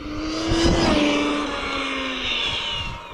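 Arrma Infraction 8S RC drag car with titanium skid plates screaming through a hard acceleration run, a loud high-pitched motor whine rising and sweeping steadily for several seconds, close and continuous.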